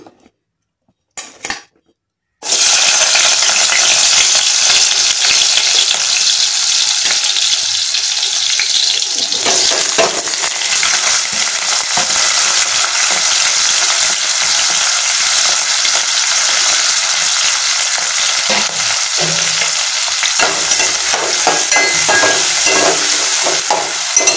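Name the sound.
onions and green chillies frying in oil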